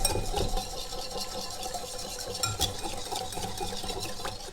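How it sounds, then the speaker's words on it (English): Butter and sugar being whisked together in a bowl, with a steady scraping, clinking rattle of the whisk against the bowl that runs continuously and close by, with no voices. "But let's whisk in our sugar."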